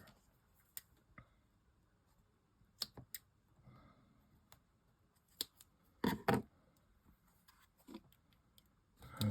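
Scissors snip a small piece for a handmade craft penguin, giving a few sharp close clicks and cuts scattered among quiet handling noises, with a louder pair of snips near the end.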